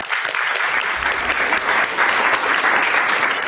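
Applause at a press conference at the Capitol held by House Republicans, a dense, steady clapping from the crowd that carries on evenly for the whole stretch without any voice.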